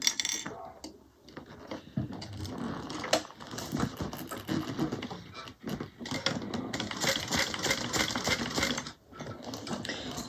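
A sewing machine stitching a Brunella bag, running in uneven bursts of rapid mechanical chatter with brief pauses, close and moderately loud, with no one speaking.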